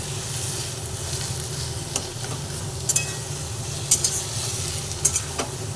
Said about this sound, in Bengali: এইভাবে বেশ কিছুক্ষণ নাড়াচাড়া করতে করতে মাছটা একদম গায়ে মেখে দেবো